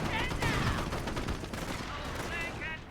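Royal Artillery barrage in Company of Heroes, a dense, continuous rumble of gunfire and explosions lasting the whole stretch, loud and busy, with a voice talking over it.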